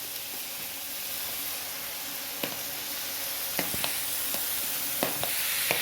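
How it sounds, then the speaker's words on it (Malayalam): Egg and soybean masala curry with added salt and tomato, stirred in a sizzling pan: a constant frying hiss broken by sharp clicks and taps of the spoon against the pan, growing more frequent toward the end. "ഇത്തിരി ഉപ്പിടാം ഇനി ഒന്ന് നന്നായിട്ട് ഇളക്കി കൊടുക്കാം തക്കാളിനെ ഇട്ട് കൊടുക്കാം"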